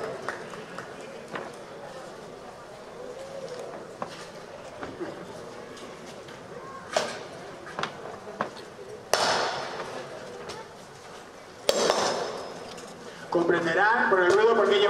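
A falcata and spear strike metal-rimmed caetra and scutum shields in a reenactment fight: scattered sharp clanks and a few loud impacts ring out over shuffling and a low murmur of voices.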